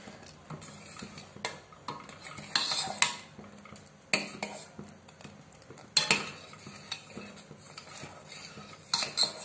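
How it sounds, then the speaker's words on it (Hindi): A ladle stirs custard in a metal pot with scraping, clinking knocks against the sides in an uneven, repeated rhythm, close by and without talk. "इसको धीरे धीरे हिलाते रहिए, कड़छी घुमाते रहिए"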